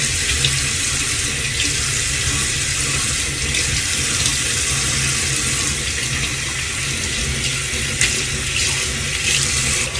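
Steady stream of running tap water at a sink while a clay mask is rinsed off a face, a close, continuous splashing flow with no talk over it.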